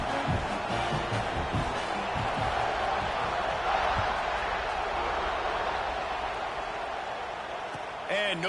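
A football stadium crowd roars and cheers as a kickoff follows a scoring drive, a broad steady wash of noise running beneath a commentator's continuous talk.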